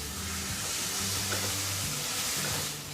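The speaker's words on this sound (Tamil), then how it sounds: "இப்போ இன்னொரு முறை நல்லா கிளறி விடுங்க." Tomato and onion frying in a pan while being stirred: a steady, close sizzle with soft scraping and hiss running throughout, no voices.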